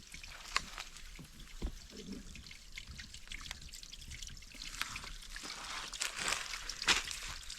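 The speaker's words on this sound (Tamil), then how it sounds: "அந்த தண்ணி தான் இங்கே நமக்கு வந்துக்கிட்டு இருக்குது" Spring water from a large forest at Alagar Malai trickles and splashes steadily, a continuous close babble with brighter spatters growing slightly louder toward the end.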